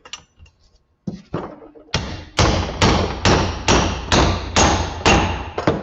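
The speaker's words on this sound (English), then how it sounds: "So now I'm going to drive this one in." An aluminum driver is hammered to seat a tapered wheel bearing race: a few soft taps, then about eight loud, evenly spaced metallic blows close by, each ringing briefly before the next.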